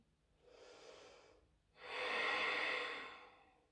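Two slow breaths taken during a yoga flow, a softer airy exhale followed by a longer, louder rushing breath, heard close and alone.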